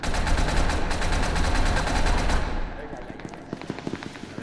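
Rapid automatic gunfire in SCP: Secret Laboratory rattles loud and continuous for over two seconds, then breaks into scattered quieter shots and game sounds.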